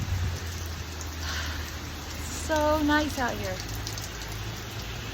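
Rain falling in Bora Bora, a steady soft hiss of drops throughout, with a voice speaking briefly over it near the middle.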